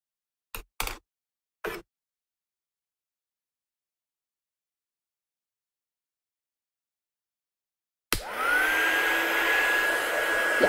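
Heat embossing tool switched on after a few light taps, blowing a steady loud whir with a high whine to dry embossing powder on a card, running alone to the end.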